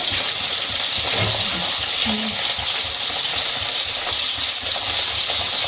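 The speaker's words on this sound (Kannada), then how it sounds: "ಈಗ ಫಸ್ಟು ಒಂದು ಹಾಕೋತಾ ಇದ್ದೀನಿ, ಒಂದು ಬೌಲಷ್ಟು ನೀರು." A steady, close gush of water pours from a bowl into a pot for making soft ragi balls, and the rushing flow runs continuously throughout.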